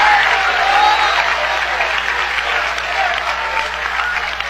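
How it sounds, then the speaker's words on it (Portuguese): Applause from a church congregation during a sermon, a steady dense wash of clapping filling the room at close range, with a few voices and a faint low hum beneath. "Pode glorificar e dar aplausos para Ele."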